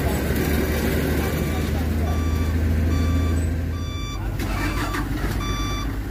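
A tow truck pulls a dump truck back out of a swamp at Balam km 38. A heavy truck engine rumbles steadily and close, with repeated reversing beeps sounding over it.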